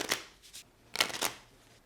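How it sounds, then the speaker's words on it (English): A deck of board game cards for This Guilty Land being shuffled, two quick riffling bursts close by and fairly soft, with no voices. "be sure you give the deck a good shuffle"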